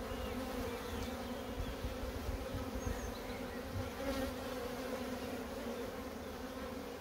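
Honeybees buzzing around an opened hive during a frame inspection, a dense, steady, low hum of many insects close by, with occasional louder passes near the ear.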